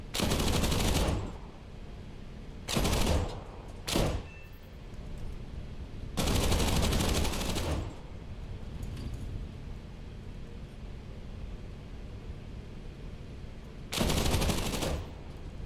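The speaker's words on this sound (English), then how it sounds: "Oh, okay. They're shooting at me." Machine gun fire in the War Thunder video game comes in several loud, harsh bursts of different lengths, separated by stretches of quieter steady engine drone.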